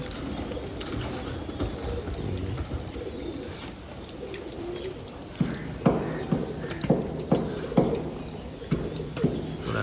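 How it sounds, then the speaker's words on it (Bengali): Pigeons in a loft cooing and fluttering, soft murmuring calls at first, then a run of sharp wing flaps or foot taps repeating in the second half, fairly close. "কবুতর দুটো অনেক সুন্দর।"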